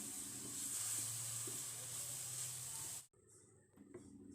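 Spoon stirring milk through a coconut ladoo mixture in a hot pan, a steady hissing sizzle that cuts off abruptly near the end, leaving a quieter background with faint scraping.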